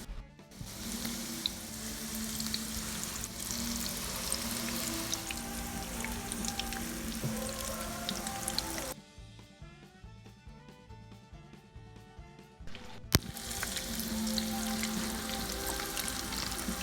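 Tortillas frying in oil in a 12-inch pan give a loud, continuous sizzle and crackle that drops to a quieter stretch midway before surging back, with no voices.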